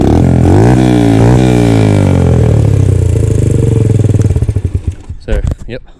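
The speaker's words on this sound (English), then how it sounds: "the bike now starts. Idle" A Sym XS 125 motorcycle engine runs loud and close, with rising and falling rev sweeps early on, settling into an uneven idle with sputtering pulses near the end.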